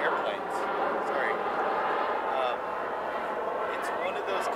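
A steady airplane drone passes overhead near Edinburgh Castle, a broad continuous rumble holding level throughout while faint voices murmur underneath.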